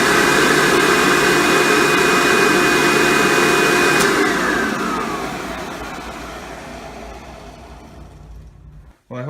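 A Hoover Breathe Easy upright vacuum cleaner, just fitted with a new belt and headlight, runs with a loud steady whine and airflow roar, then gradually winds down toward silence.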